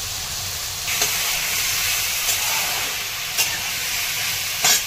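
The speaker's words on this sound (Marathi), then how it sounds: "आता हे बटाटा आणि दोडका हे टाकून घेत आहे" Potato and ridge gourd sizzling in a hot pan while being stirred, a steady frying hiss with a few sharper scrapes and clinks of the spoon against the pan roughly every second or so.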